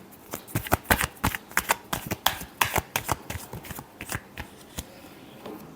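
Tarot deck being shuffled before a reading, a close series of crisp riffling card flicks and taps in uneven bursts, no talking over it.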